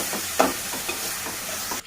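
Eggplant pieces and curry leaves being stirred in a pan, giving a soft steady sizzle with repeated scraping strokes up close and no voices.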